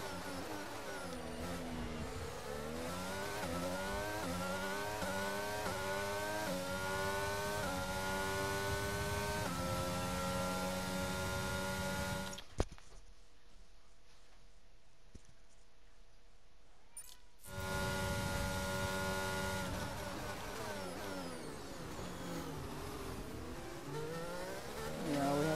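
Race cars in the F1 22 video game launch from the grid at the start of the Austria sprint race, engines screaming and rising together in loud layered revs, broken by a sudden quiet gap before the roar returns.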